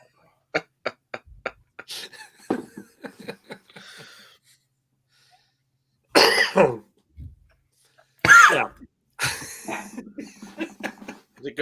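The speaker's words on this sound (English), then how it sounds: "I sort of did a sneeze and a cough at the same time." A man lets out a combined sneeze and cough in one burst, then coughs again, sharp and close, between bursts of conversational talk and laughter among people sharing a tankard.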